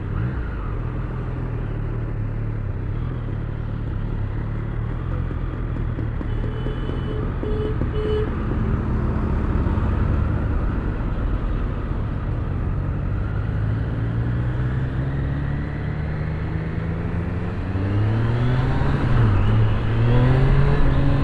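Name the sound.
Triumph Street Triple 765RS motorcycle riding in road mode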